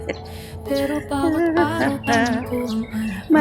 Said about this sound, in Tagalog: may ibon doon tutulog-tulog